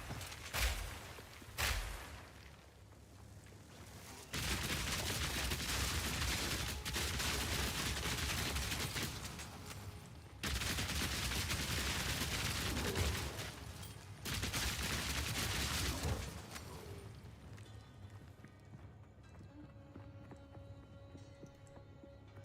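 Bursts of gunfire from shooting enemies in the action game Path of Exile 2 come in several long, dense volleys separated by short pauses, loud and close, easing into quieter game sounds at the end.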